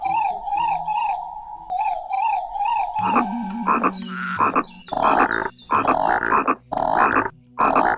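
Someone imitates a frog with the voice, making repeated croaking calls in short rhythmic bursts. The calls come close and loud, first in a steady series, then in longer, stronger blasts with brief pauses between them.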